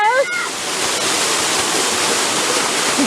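Waterfall at Waterfall Gully in the Adelaide Hills, fresh water pouring steadily over slimy rocks in a loud, continuous nearby rush, with a brief voice at the start.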